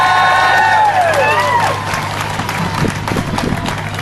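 Crowd applause and cheering welcome a speaker at an outdoor climate action protest in Ireland, a loud burst of clapping with whoops that eases off, while a whistle-like tone sweeps down early on and voices mingle throughout.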